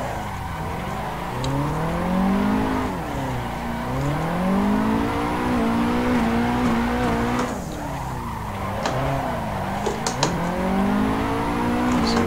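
A Nissan 180SX with its turbo turned up drifts in the Assetto Corsa sim, tires squealing in long sweeping arcs as the engine rises and falls, with clutch kicks and small clicks between slides, loud and without talk.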